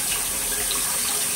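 Tap water runs into a sink during a skincare routine, a steady close hiss and splash throughout, with no one talking.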